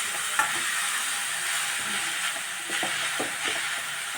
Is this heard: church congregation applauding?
no